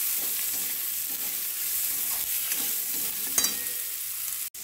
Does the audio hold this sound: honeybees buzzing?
no